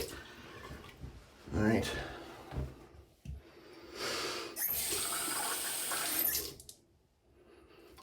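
Water running and splashing during a rinse after a safety razor shave, with bursts of tap water and splashing over several seconds, fairly close, then quiet; someone speaks briefly.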